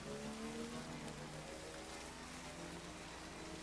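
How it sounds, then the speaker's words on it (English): Steady rain in Death Stranding hisses evenly throughout, a constant wash of falling drops with a faint low hum beneath and no voices. "No, it's still raining, come on."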